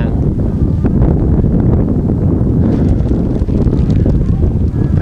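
Wind buffets the microphone at a riverside market on a sunny day, a steady loud rumbling roar with no clear breaks and no talk.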